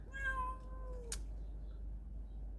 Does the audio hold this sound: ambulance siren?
no